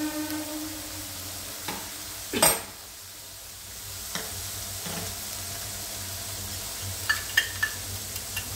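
Masala for potato dum sizzling in oil, a steady close frying hiss punctuated by occasional scrapes and a few light clinks of a spoon against the pan, no talking.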